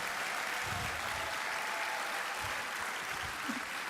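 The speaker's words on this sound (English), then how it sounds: "let us take a moment of one final resounding round of applause in honor of our graduating executives." Audience applause at an executive education graduation ceremony in Lagos, a steady, even wash of many hands clapping, moderately distant and unbroken for the full length.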